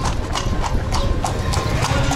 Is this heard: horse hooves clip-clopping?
yes